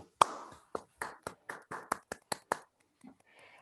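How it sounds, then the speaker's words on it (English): A small audience at a web development bootcamp graduation claps in a handful of distinct, sparse beats spaced apart, close and dry, each burst short and separate, followed by a brief murmur at the end. "So another round of applause for you."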